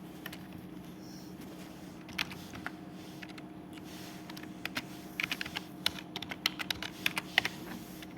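Keys clatter on a computer keyboard while login details are typed into a web page, with quiet scattered clicks early that grow into quicker bursts of keystrokes toward the end over a steady low room hum.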